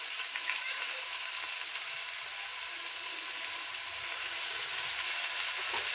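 Cauliflower and potato sautéing in oil produce a steady, moderate sizzle with light stirring scrapes, growing slightly louder toward the end.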